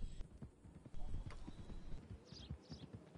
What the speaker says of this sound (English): Getting on my damn horse.